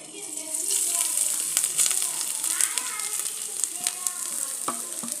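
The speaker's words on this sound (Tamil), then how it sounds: "இதோட ஈரத்தன்மை போகிற வரைக்கும் நல்லா வதக்கி எடுத்துக்கணும்" Grated coconut sizzles and fries in a pan for a rice-flour sweet, with a steady crackling hiss and occasional stirring scrapes, faint voices in the background.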